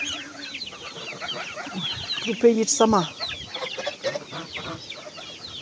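Chickens cluck and chatter at close range while ducks feed on zucchini in a farmyard, with a voice speaking over the busy flock.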